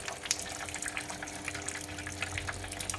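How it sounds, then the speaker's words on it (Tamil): A household water pump motor hums steadily while water flows and gushes into a large tank. The rushing wash is continuous and fairly close, with no voices. "மோட்ரு ஓடிக்கிட்டு இருக்குது."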